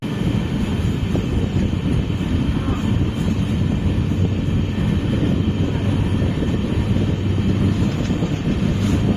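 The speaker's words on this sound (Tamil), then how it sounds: "அரக்கோணம்ல ஒரு 5 மினிட்ஸ் ஹால்ட்டுக்கு அப்புறம் நம்ம ட்ரெயின் டிபார்ட் ஆகிடுச்சிங்க" Amrit Bharat Express train running after departing Arakkonam, heard from inside a coach: a steady, loud low rumble of wheels and carriage noise continuing throughout without a break.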